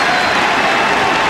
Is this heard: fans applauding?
yes